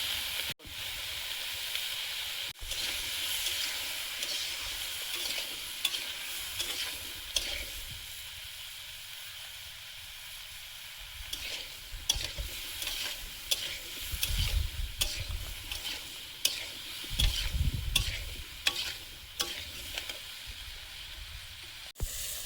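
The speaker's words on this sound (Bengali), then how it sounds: "বেগুন আলুটা দিয়ে দেবো, হলুদ গুঁড়ো" Eggplant and potatoes frying in oil with turmeric give a soft steady sizzle, with intermittent low scraping thumps of stirring and a brief quieter stretch midway.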